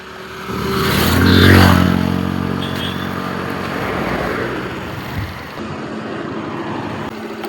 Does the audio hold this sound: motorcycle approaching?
yes